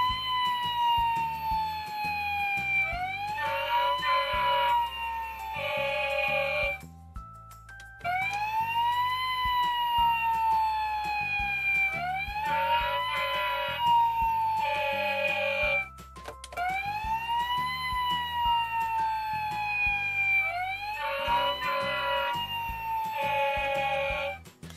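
A battery-powered toy USA fire engine truck sounds its siren after its button is pressed, with repeating wailing, rising tones. Beeping bursts and short pauses run through the pattern across the whole stretch, played alone at moderate volume.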